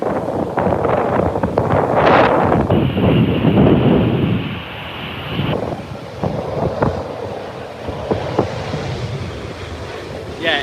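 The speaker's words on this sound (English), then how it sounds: "God, it's really windy today." Strong wind buffets the microphone at Heathrow airport during gusts of around 40 knots, a loud roaring rumble that surges and eases across the whole stretch with no speech.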